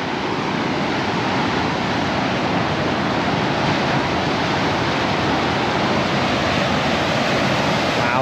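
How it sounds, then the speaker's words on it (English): Water rushing over Horseshoe Lake Dam, a dense, unbroken roar that stays loud and even from start to finish, with no voices. "This water is moving."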